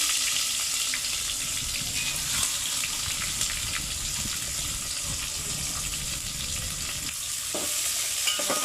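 Onions frying in hot oil for restaurant-style chicken biryani are stirred around a pan, giving a steady, close sizzle with scraping and stirring throughout and no talking.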